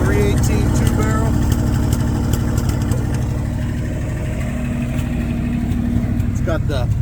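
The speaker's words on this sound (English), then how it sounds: "The exhaust might be the coolest thing on it. I'm gonna go ahead and let you hear it." A 1979 Dodge B200 street van with a 318 two-barrel V8 idles with a deep, throbbing exhaust rumble, loud and close, steady throughout with a slight dip midway.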